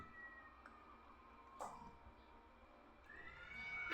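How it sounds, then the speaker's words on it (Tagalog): Faint cat meows, a couple of short cries against a quiet background hum, with a drawn-out mewing call near the end. "Ingay ng pusa."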